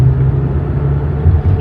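Car driving on Card Sound Road through a construction zone, a loud, steady low rumble of engine and tires close by, continuous throughout with no talk.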